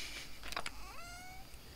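A short cat meow in Stardew Valley, a rising then gliding tone over quiet game ambience with a few soft clicks just before it.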